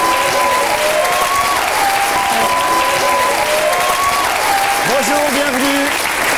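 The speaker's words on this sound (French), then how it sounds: "Allez, on peut applaudir Raphaël Belzaï et Marjolaine." Steady, loud television studio audience applause fills the whole stretch, with someone speaking over the clapping.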